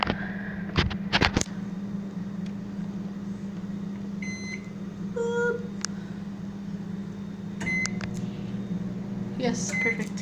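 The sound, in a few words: microwave oven running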